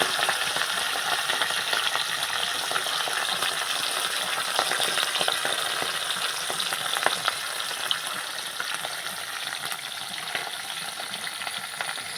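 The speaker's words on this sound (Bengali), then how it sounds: "এবারে ঢেলা মাছগুলো ভেজে নেব।" Dhela fish shallow-frying in oil in a pan, giving a steady close sizzle with faint crackles and pops throughout and no voices.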